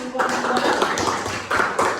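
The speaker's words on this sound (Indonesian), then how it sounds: "Kita tepuk tangan." Elementary school classroom in a sixth-grade lesson on the solar system, with pupils clapping together in a loose, dense burst that swells and fades over two seconds, mixed with children's voices.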